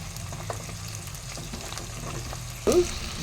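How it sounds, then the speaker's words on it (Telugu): Carrot and potato pieces in a hot sizzling pan for aloo kurma, a steady frying hiss with a sudden louder burst of sizzle near the end, close and without talk. "ముందుగానే ప్రిపేర్ చేసి పెట్టుకున్న క్యారెట్ ముక్కలు బంగాళదుంప ముక్కలు మొత్తం వేసేసుకున్నాం"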